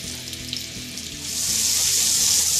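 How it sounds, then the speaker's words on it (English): Chicken pieces sizzle in cooking oil in a non-stick pan over medium-low heat. A steady crackling fry swells louder partway through, over a low hum, close by and with no talking. "Now add your chicken in the pan."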